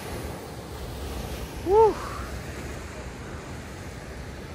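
Strong river current and surf rush steadily and broadly while out fishing in New Zealand, with a brief loud whoop from a man partway through.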